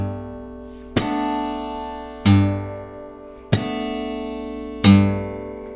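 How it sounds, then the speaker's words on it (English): Four evenly spaced percussive slaps hit the strings of an acoustic guitar in alternate tuning, each followed by a ringing plucked bass note that sustains until the next slap. "I'm gonna slap and then pluck the bass note."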